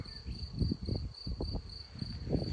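Bees hum steadily around a tree, a thin continuous drone with soft, low, gusty rumbles rising and falling beneath it.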